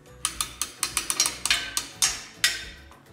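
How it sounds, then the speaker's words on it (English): An old boat trailer winch being reused on a Hobie Pro Angler trailer ratchets in a quick run of sharp metallic clicks, then a few slower, spaced pawl clicks, close and clear with no voices. "It's the old winch that I'm reusing."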